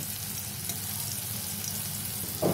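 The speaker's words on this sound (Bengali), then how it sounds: "তো দেখুন এইভাবে আমি ভেজে নিচ্ছি পোস্তর বড়াগুলো" Poppy seed fritters (posto bora) deep-frying in hot oil give a steady, dense sizzle that holds at an even level throughout, with a brief louder burst right at the end.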